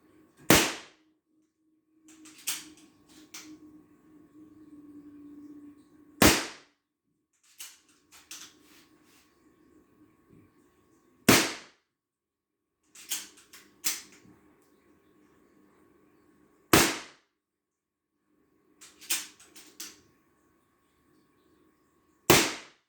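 Artemis CP2 air pistol fired from its 9-shot cylinder: about seven sharp, loud cracks come at irregular intervals of a few seconds, with soft handling clicks and faint mutters in between.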